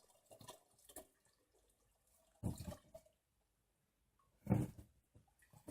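Water siphoned out of an aquarium through a hose into a container, heard as a few faint, separated bursts of trickling and splashing with quiet gaps between them.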